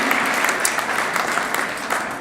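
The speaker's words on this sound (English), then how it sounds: "If we could give our student athletes a round of applause and congratulations on their accomplishment today." Student athletes at a De La Salle signing day ceremony receive a steady round of applause from the crowd, a dense, even clatter of many hands lasting a couple of seconds.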